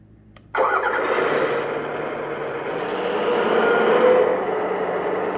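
A Kabolite K336GC model excavator's K970 sound module plays an engine start, an abrupt burst that settles into a steady, slightly rising diesel-like rumble.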